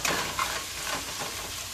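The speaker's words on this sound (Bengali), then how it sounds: "গরম মশলা আর পেঁয়াজ ঢেলে দিলাম। ঠিক আছে, তা নেড়ে চেড়ে বসাতে থাকি।" Garam masala and onion frying in a pan while being stirred: a steady close sizzle with a couple of scraping stir strokes early on, and no voices.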